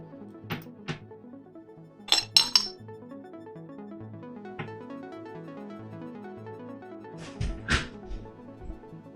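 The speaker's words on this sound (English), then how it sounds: "We're gonna repair" Pieces of a ceramic teapot lid clink together during a kintsugi repair, with a few sharp, bright taps in small clusters over a quiet background of soft tonal noise.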